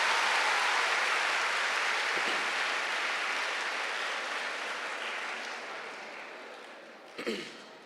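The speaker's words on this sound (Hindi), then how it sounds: "पहले तो आप अपने लिए क्लैपिंग करें ना, आप अपने जज्बा के लिए क्लैपिंग" A women's summit audience in a university hall in Multan applauds steadily for several seconds, the clapping fading gradually before a brief louder burst near the end.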